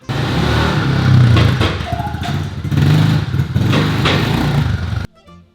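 An LS7 V8 in a Corvette Z06 revs inside a garage, a loud, close, rumbling roar that swells in two bursts and holds before cutting off abruptly near the end.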